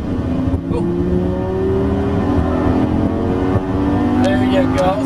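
Engine of a Lamborghini LP570-4 Superleggera droning on a track, a loud sustained tone that climbs gradually in pitch as it accelerates, heard close from inside the car.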